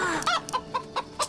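A hen clucks in a rapid series of five or six short, close calls, crisp and evenly spaced, with no talk over them.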